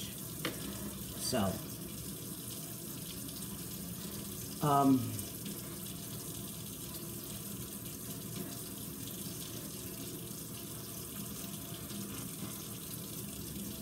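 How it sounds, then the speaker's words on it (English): Water is poured out into a kitchen sink while preparing fish for marinating, a brief splashing gush standing out at moderate loudness over quiet room noise, with a short spoken word at the start. "I'm gonna pour this water out because I'm gonna marinate this fish."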